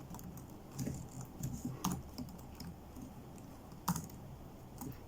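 Rapid typing on a computer keyboard while writing Arduino code, a steady patter of close key clicks with a few louder strokes over a low room hum.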